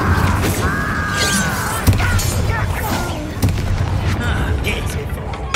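Incendio fire spells cast in the game Hogwarts Legacy, several sharp bursting blasts with whooshing flame amid combat noise, while a voice talks over the action.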